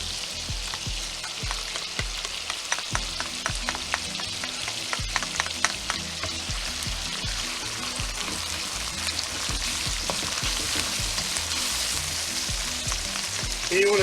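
Ginger frying in garlic butter in a pan, a steady close sizzle with crackling pops and occasional stirring clicks, continuous and fairly loud throughout.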